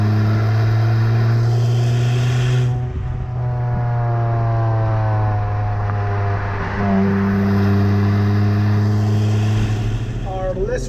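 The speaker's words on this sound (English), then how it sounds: "even the sound of the exhaust obviously is different." A Hyundai i20 N Line hums along at a steady drone from inside the cabin, with the engine note dropping and rising as it shifts, heard under a voice.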